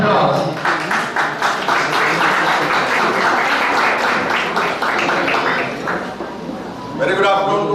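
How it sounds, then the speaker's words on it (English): A conference audience at an IEEE section event claps to welcome Dr. Anil Kumar Singh, a loud, full burst of applause that swells, dips briefly near the end, then picks up again. "Please join me in welcoming Dr. Anil Kumar Singh Sir with a huge round of applause"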